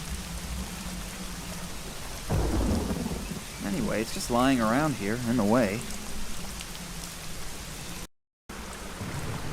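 Steady heavy rain with thunder rumbling in the Secret Files Tunguska game scene, a dense hiss running throughout under a voice talking in the middle, with a brief dropout near the end.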